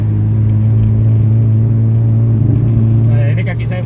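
A 1984 Mitsubishi Lancer SL box-type with a hesitating, stumbling engine drones loud and close, a steady low engine hum with strong harmonics that holds throughout and eases slightly at the end.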